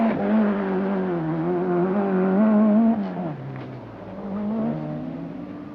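A rear-wheel-drive Toyota Celica rally car driven hard on a stage of the 1985 Lombard RAC Rally gives a loud, steady engine drone that holds its pitch, then drops and rises again as the revs change.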